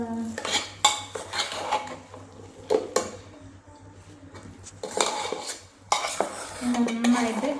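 Jackfruit and tapioca are stirred in a pan, with a metal utensil scraping and clanking against the cookware in irregular close strokes and a faint sizzle beneath.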